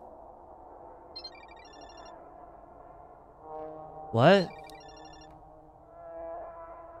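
Phone ringtone sounding from a balcony in a video game, a faint electronic melody playing in short bursts behind a startled voice and a loud sweeping effect.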